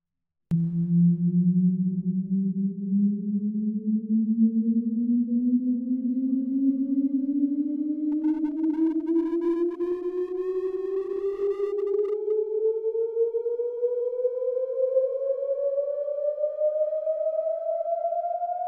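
A smooth synthetic tone glides slowly upward for many seconds, washed in a long, spacious plate or hall reverb tail from an Eventide UltraReverb plugin, with a brief buzzy overtone flutter midway.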